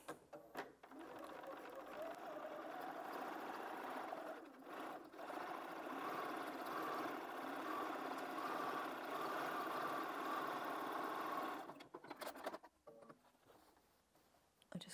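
A sewing machine top-stitches through the bulky layers of an envelope-back cushion cover, a steady close whirring hum for about eleven seconds that then stops with a few light clatters.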